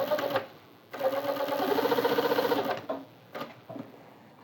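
Sewing machine sewing a double welt pocket, a close run of rapid rhythmic stitching lasting under two seconds, bracketed by brief shorter bursts and handling clicks.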